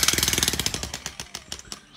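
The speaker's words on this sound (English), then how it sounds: "Vineyard manager Jeff with that jackhammer." A jackhammer pounds rocky vineyard soil to drive a T-post, a rapid pulsing clatter that starts dense and steady, then breaks into slower, spaced bursts as it works, close and loud with no talk.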